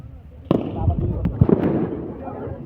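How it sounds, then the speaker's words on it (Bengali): Gunshots fired from a helicopter over Narayanganj: one sharp, loud report followed by a few fainter bangs and pops, heard under a crowd of agitated voices. "শালারা কোন দিকে গুলি করে"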